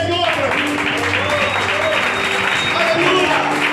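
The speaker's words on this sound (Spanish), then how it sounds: "Dale un aplauso al Señor." A church congregation applauds during worship, steady continuous clapping filling the space for a few seconds with voices mixed in underneath.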